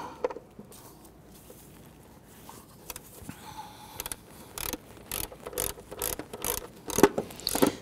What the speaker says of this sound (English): We're going to use a shallow 10mm in our ratchet